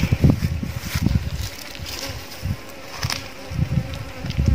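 Bees swarm and buzz around a ground nest being broken open for its honeycomb outdoors, a steady insect drone punctuated by low thumps and bumps of handling, with light wind across the microphone.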